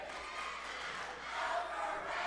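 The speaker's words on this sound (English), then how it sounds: "And the overrated cheer." Basketball crowd in a high school gym during a boys game, Neshannock versus Ellwood City, chanting an overrated cheer; a steady mass of voices fills the hall, swelling slightly toward the end.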